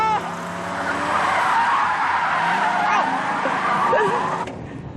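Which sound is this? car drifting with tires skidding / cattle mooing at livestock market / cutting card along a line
car drifting with tires skidding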